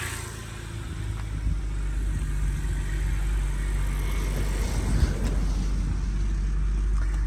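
A BMW E90 with an N52 engine idles with its drive belt running, giving a steady low rumble with a faint whir on top, even and continuous at moderate level without speech.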